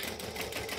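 A sewing machine top stitching a shoulder bag seam, a steady fast mechanical whir, quiet and continuous through the short moment.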